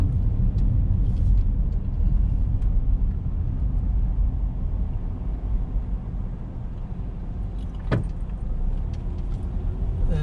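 A car drives through dense Macau city streets at night, steady road and engine rumble close by, continuous throughout with a brief sharp passing noise near the end.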